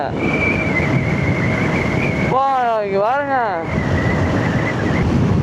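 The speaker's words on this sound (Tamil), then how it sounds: "காற்று தான் அதிகமாக அடிக்குது." Strong wind buffets the microphone during a motorbike ride toward Valparai, a steady loud roar running through the whole stretch while someone talks briefly in the middle.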